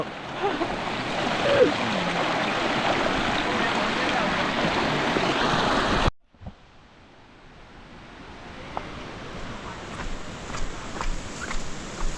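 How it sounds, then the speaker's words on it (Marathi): A waterfall in the forest near Kupavade village sends up a steady close wash of falling water that cuts off abruptly, followed by a fainter, distant rush with scattered small knocks. "मंडळी फायनली आपण धबधब्याच्या स्पॉटला पोहोचलेले"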